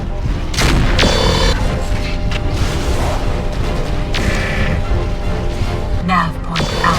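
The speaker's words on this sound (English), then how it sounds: "We better stay clear of the blast or we may take some damage." A destroyed missile launcher explodes in the MechWarrior 4 video game, a loud sustained blast with several sharp bangs and crashing bursts layered over a constant roaring rumble, with a brief voice in the mix.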